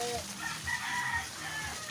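A morning rooster crows fairly close, against a dense background hiss, with other chickens nearby.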